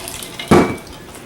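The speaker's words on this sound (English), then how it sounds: "You take ice cold water, and I've just got it in one of these stainless steel glasses with a lid on it where the ice doesn't come out" Ice-cold water is poured from a stainless steel glass into butter being made in a mixer bowl, heard as a short close splash and clatter after a quiet start, then fading.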